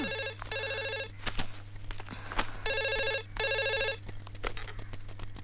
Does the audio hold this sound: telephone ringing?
yes